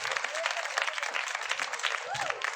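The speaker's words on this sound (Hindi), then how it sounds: "एक बार राहुल के लिए ताली।" An audience at a children's gift event applauds for Rahul, with steady crowd clapping that stays fairly faint and even across the stretch.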